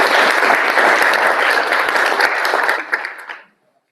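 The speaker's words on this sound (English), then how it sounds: "Round of applause, please." An audience in Ottawa applauds steadily for about three seconds, the clapping thinning out into a few last claps before falling silent.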